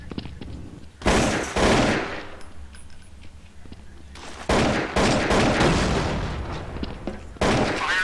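Automatic gunfire from the video game Counter-Strike: Source comes in loud sustained bursts, a short one early on and a longer stretch later, with rapid shots packed together in a dense rattle.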